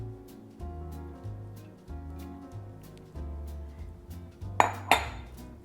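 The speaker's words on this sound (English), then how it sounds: "I've got my eggs, my half and half, melted butter, and I'm going to whisk all of this together" A whisk beats eggs, half and half and melted butter in a bowl, metal tines clinking rhythmically against the sides in quick strokes, followed near the end by a couple of louder sharp knocks.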